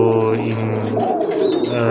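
A pair of golden breeder pigeons coos steadily and close by, soft throaty calls running through the whole stretch with no pauses.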